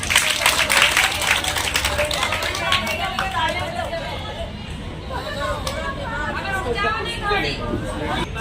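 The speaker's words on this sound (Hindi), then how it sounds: "जोरदार तालियां बजाओ" Loud clapping from a crowd at a public meeting, rapid and continuous, mixed with the chatter and babble of many voices, while people talk through it.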